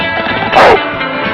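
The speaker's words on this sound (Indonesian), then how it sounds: "anjing dengan gonggongan terkeras di dunia" A single sharp dog bark from a record-holding loudest barker, measured at a national competition in Australia, loud and close, brief and alone.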